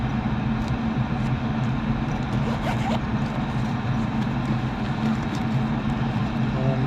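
A furnace draft inducer motor runs continuously during a no-heat service call, making a loud, steady whirring drone with a strong low hum and some faint scattered clicks, with no pauses or changes in level.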